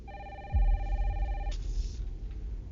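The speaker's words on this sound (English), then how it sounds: "It's a phone. This is Resident Evil." Telephone in a Resident Evil video game rings with a steady electronic tone that stops partway, accompanied by a low thud and rumbling game ambience.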